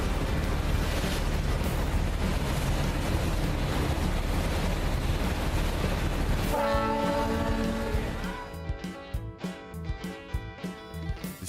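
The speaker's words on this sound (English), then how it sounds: "The captain honked at us." A riverboat captain sounds the horn during a long river trip toward New Orleans: blustery wind and water noise come first, then a loud, sustained low horn blast with gusty bursts of wind toward the end.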